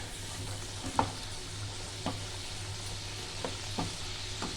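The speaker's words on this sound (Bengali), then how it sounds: "মাঝে মাঝে এরকম নাড়িয়ে চাড়িয়ে দিতে হবে।" French fries frying in hot oil give a steady close sizzle, broken by several sharp scraping clicks as they are stirred at irregular intervals.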